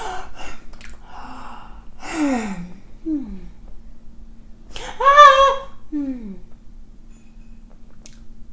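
A voice imitates a baby's crying: short sobbing bursts that cut off suddenly, followed by a drawn-out yawn-like sound, with breathy pauses between them.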